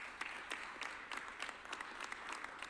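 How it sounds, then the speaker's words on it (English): An audience gives a round of applause for a performer, steady dense clapping from a crowd, somewhat distant and moderately quiet throughout. "Give Adam a round of applause."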